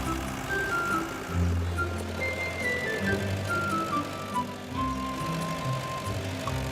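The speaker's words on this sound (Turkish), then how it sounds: "Yardımcı arabalar işlerini bitirdi. Garajlarına dönüyorlar." Cartoon helper cars from a children's animated series drive back to their garage, a steady engine hum running beneath bright musical tones and sliding whistle-like notes, continuous and moderately loud without speech.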